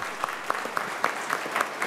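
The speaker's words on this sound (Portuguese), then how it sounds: "A salva de palmas para a primeira dama aí" Short burst of clapping in a council chamber during a special session honouring army reservists, with a few sharp, evenly spaced claps standing out over a softer spread of applause.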